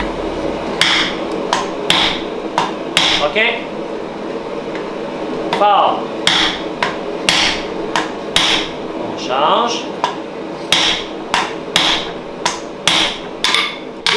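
Hammer blows forging steel on an anvil while making a bottle opener, a steady series of sharp ringing strikes in uneven rhythm, close and loud, with brief spoken words between blows.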